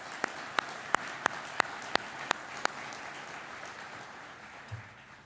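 An audience applauds at a police academy graduation ceremony, with a soft wash of distant clapping and a few sharp, evenly spaced nearby claps that stop partway as the applause fades.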